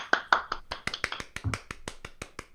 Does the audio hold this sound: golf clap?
yes